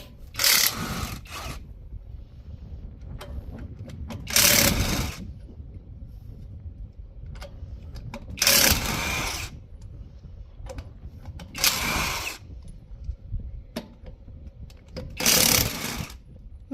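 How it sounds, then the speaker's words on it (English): Impact wrench zipping lug nuts off a wheel during a brake shoe check on an old truck, five loud bursts of a second or so each, separated by quiet pauses with faint handling noises. "Remember the times before your impact wrench?"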